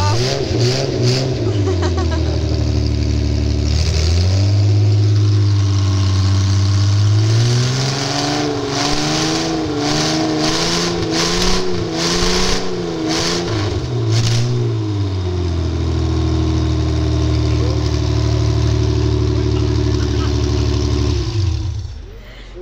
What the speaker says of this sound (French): Le moteur tourne bien, il a vraiment toute sa puissance.